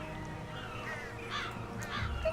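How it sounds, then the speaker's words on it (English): Crows caw across a seafront as an ambient effect, with several harsh calls at a moderate distance over a low, steady background hum. "you can hear all the birds singing"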